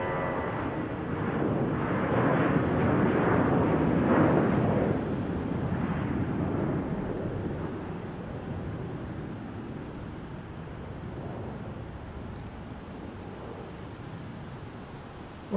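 A JetBlue airliner at Salt Lake City Airport roars steadily for several seconds, a broad engine rumble that slowly fades as it passes into the distance.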